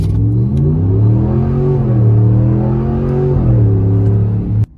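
A 2019+ Ram 1500 pickup accelerates hard from a dead stop with the pedal floored, a loud steady engine roar climbing through gear changes before cutting off abruptly at the end.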